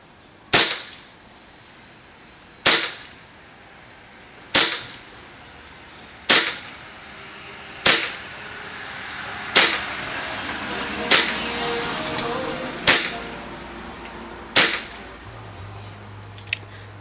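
A Tokyo Marui airsoft gas gun fires BBs through a velocity reducer, giving nine sharp, loud single shots at roughly two-second intervals, each followed by a short hissing decay.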